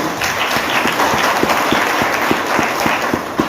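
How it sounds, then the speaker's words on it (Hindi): An audience applauds a company founder at a large gathering, a loud, even roar of many hands clapping throughout with distinct sharp claps standing out near the microphone. "तो हमारे फाउंडर के लिए प्लीज जोरदार तालियां होगी"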